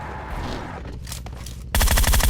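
Automatic gunfire in PUBG Mobile, a loud dense burst of rapid shots arriving abruptly near the end after quieter game ambience, with no talk over it.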